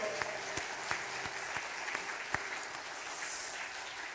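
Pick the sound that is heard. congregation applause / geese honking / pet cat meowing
congregation applause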